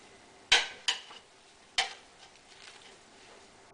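Spoon scraping and clanking against an extra-large pot while stirring hunters stew of chicken, roast beef, cabbage and sauerkraut: a few sharp metallic knocks, then softer scraping, fairly quiet.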